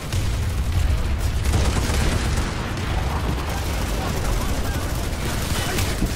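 Video game gunfire rattles as dense, continuous bursts of shots and booms over a rumbling background, loud throughout with no clear gaps.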